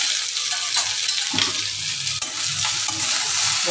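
Vegetables — carrots and beans sprinkled with salt — being stirred and tossed in a pan, a steady soft sizzle and scraping throughout, close and continuous with no talking.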